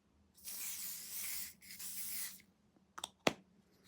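Two long close hissing bursts of P. Louise Melt Away cleansing oil sprayed from a pump bottle, the second slightly shorter, followed by a couple of faint clicks and taps of handling in a quiet room.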